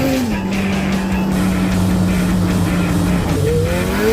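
A 1987 Yamaha Banshee ATV, revived after sitting more than ten years, revs its two-stroke engine hard, the pitch holding high then dipping and climbing again as it accelerates, loud and close with no speech.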